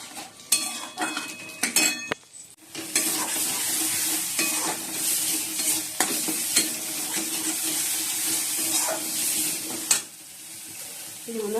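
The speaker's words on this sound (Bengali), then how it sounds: "মশলাটা কষানো হয়ে গেছে" A thick spice paste with cumin powder and yogurt fries in a pan under a steady loud sizzle, while a spoon scrapes and clatters against the metal again and again, close up, with a few sharp knocks.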